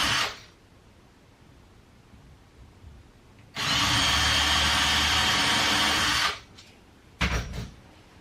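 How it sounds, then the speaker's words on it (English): A power drill bores holes for bronze nails in the side of a wooden boat transom, one loud steady whine of about three seconds, then a shorter burst after a pause, with quiet workshop room tone between. "At the transom sides, holes were drilled for the bronze nails, which then were hammered in."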